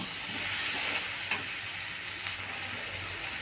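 Potatoes frying with pointed gourd in a pan as a little water goes in, a steady close hiss and sizzle with a sharp crackle near the start, then continued frying noise without talk.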